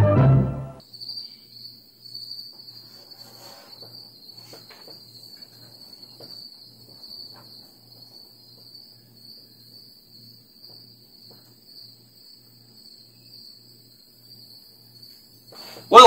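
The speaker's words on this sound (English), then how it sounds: "Don't let the cricket noise bother you" Crickets in a field in Kansas in the fall give a continuous high, steady chirring trill that runs nearly the whole time, with brief louder noises at the start and end.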